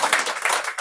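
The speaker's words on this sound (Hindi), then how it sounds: "तो तालियां बजा दीजिए" A brief burst of audience applause at a Hindi poetry reading, with dense, lively clapping from a crowd lasting under a second.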